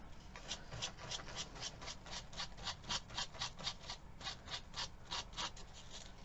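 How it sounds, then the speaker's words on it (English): Sandpaper rubs by hand over a wooden farmhouse rooster decor piece in quick, rhythmic back-and-forth strokes, about three per second, faint and close, with no talking. "Alright, so I'm going to go ahead and sandpaper this."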